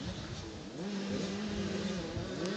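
Yamaha motocross bikes racing down a hill into a dirt-track bowl near the final lap of a youth race, engines droning and revving steadily with a rising and falling pitch at moderate distance.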